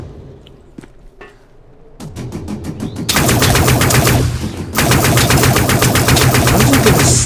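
Video game gunfire in the sci-fi shooter Dust 514: a few scattered shots at first, then loud rapid automatic fire in sustained rhythmic bursts with a brief gap, close and dense throughout.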